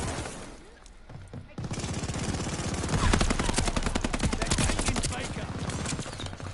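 Rapid bursts of video game gunfire rattle loud and close in dense repeated shots, intensifying after a quieter opening while a player grinds a weekend battle pass.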